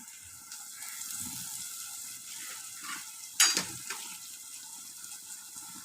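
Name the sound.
onions frying until reddish in pan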